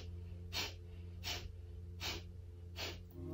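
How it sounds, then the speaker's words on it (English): Breath of fire yoga breathing: four short, forceful nasal exhalations with the mouth closed, evenly spaced and close, over a faint low hum. "we're going to do breath of fire, which is a breath through the nose, mouth is closed, and we're forcing the exhalation powerfully and inhaling naturally"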